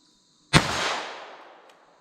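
One sharp, loud shot from a Taurus TX22 pistol firing .22 LR ammunition at a target, then a short echoing decay that dies away over about a second and a half.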